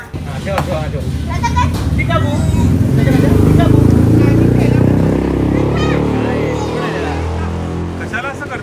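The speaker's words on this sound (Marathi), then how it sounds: "ते गाड्या लावतात ते सायलेन्सर असं कान फुटून जातोय" Loud exhausts of passing motorcycles with noisy silencers roar low and close, swelling toward the middle and easing off, while voices talk over the rumble.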